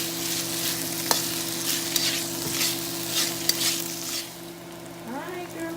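Spicy beef and broccoli sizzle in a pan, with a continuous crackling fry and repeated scraping stirs and clinks of a utensil, close and fairly loud, while a low hum runs underneath.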